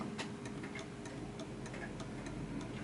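Art deco chiming mantel clock ticking steadily, a faint, even tick-tock repeating about every half second, heard alone at close range against a soft background hiss.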